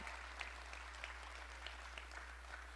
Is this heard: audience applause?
yes